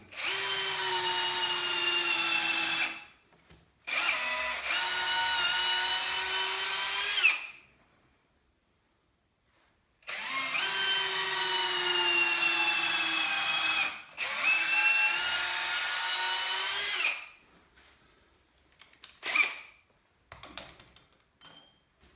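Power drill boring through a piece of scrap wood while building a homemade archery target stand, two long bursts of loud whirring, each briefly broken by a pause, followed by a few light clunks and taps.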